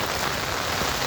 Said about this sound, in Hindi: छम छम छम छम छम छम करती बारिश।